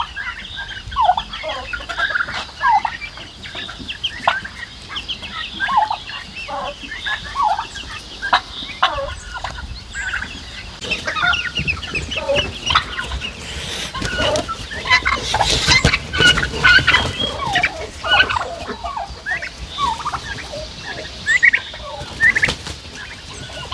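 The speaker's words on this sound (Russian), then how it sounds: "Индюшата, цыплята, все на месте," Turkey poults and chicks call nonstop on a farm, a busy chorus of peeps, clucks and gobbling chatter at close range with no speech.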